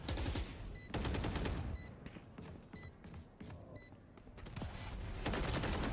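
Rapid automatic gunfire bursts loud and close in a Valorant esports match, separated by brief pauses and punctuated by short electronic beeps, with no voices over it.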